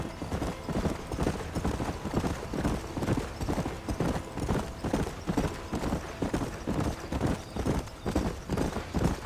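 Horse hooves gallop in a fast, steady rhythm in the video game Red Dead Redemption on PS5, the clopping loud and continuous throughout with no talk over it.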